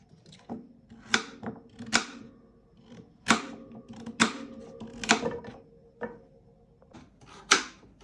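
A knife chops raw pumpkin for a dessert on a cutting board in a home kitchen, giving about a dozen sharp, irregular cuts and knocks, close and clear with no talking.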